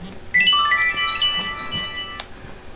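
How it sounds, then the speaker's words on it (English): A mobile phone rings with a bright electronic melody, a quick run of clear tones repeating for about two seconds, close and fairly loud, ending abruptly. "Sorry about my phone. I forgot to put it on silent"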